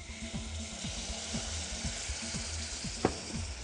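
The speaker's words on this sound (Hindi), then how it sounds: "और फिर ऊपर से 100 मिलीलीटर दूध के आप पैन में डाल दें।" Milk hitting a hot pan of flour, olive oil and golden garlic, with a steady close sizzle and frying crackle, spoon scraping strokes repeating throughout and a brief sharper clink near the end.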